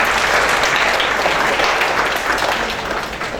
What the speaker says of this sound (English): clap hands for this girl.